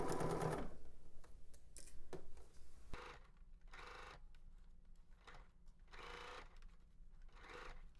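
A sewing machine stitches over a shoulder seam in short, quiet runs of rapid whirring, separated by brief pauses and a few clicks and knocks.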